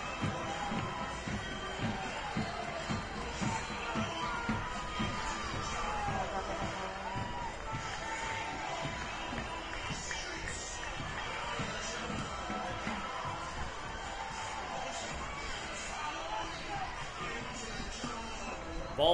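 A packed crowd at TowneBank Stadium before kickoff of a USL League Two soccer match between Lionsbridge FC and Western Mass Pioneers, giving a steady, dense roar of cheering and babble that holds at one level throughout.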